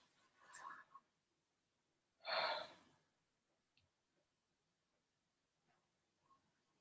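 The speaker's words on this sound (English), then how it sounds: "Breathing in through the mouth and out, just letting it go." Slow pranayama breathing in through the mouth and out, a soft airy inhale followed by a louder, longer exhale, with faint quiet stretches between breaths.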